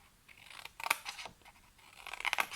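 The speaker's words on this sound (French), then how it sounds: "Et là, je vais biseauter pour faire ma languette." Scissors snip paper to bevel the corners of a tab, giving a few quiet, close, crisp cutting and scratching strokes in short bursts.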